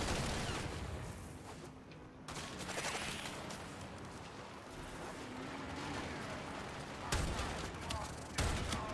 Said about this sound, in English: Got a ship shooting at us